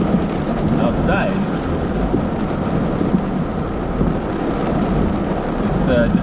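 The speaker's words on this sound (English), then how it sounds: "sheets of rain, water coming down" Heavy rain pounds a car during a lightning storm while driving, a dense steady roar of water with low rumbling underneath and brief squeaks, likely wipers, close and loud throughout.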